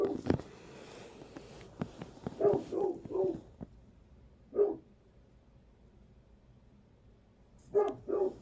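Several dogs bark in short bursts, some sharp and close, others softer, with pauses between volleys and a final pair of barks.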